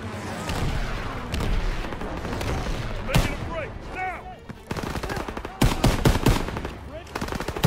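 Gunfire and grenade blasts from a World War II shooter game: dense machine-gun bursts rattle throughout, broken by several loud sharp explosions and single shots, with faint voices underneath.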